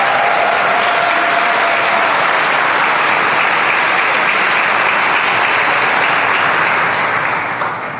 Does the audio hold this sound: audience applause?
yes